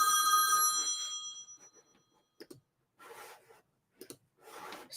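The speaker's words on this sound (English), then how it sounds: "I should have turned the phone to silent." A telephone rings loudly and close up for about a second and a half, alone, then stops; a few faint handling noises and rustles follow in the quiet.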